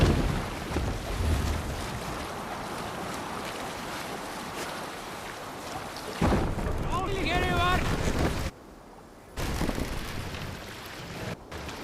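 A Viking sailing ship in AC Valhalla, with steady wind and waves rushing under the hull and gusts buffeting the sails. Voices and brief tonal calls rise over it, and there is a short quiet gap near the end.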